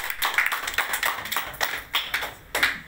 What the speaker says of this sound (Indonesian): Tepuk tangan untuk Pak Halim.